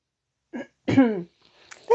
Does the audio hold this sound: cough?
yes